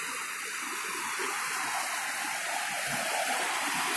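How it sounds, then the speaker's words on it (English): Water pours steadily over a small village dam, a constant broadband rush heard close and unbroken, with no voices. "You can see how beautifully the water is flowing here."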